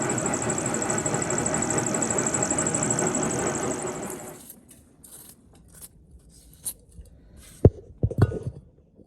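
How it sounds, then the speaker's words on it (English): A TOS SN40 lathe machining a metal block for a DRO reader head mount, a loud steady whining cut for about four seconds that stops abruptly, followed by quiet clicks and a few sharp metallic knocks. "We're just machining the block that's going to take the reader head for the cross slide"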